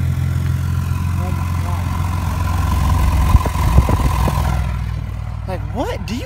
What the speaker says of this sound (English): I did not expect my car to sound like that at all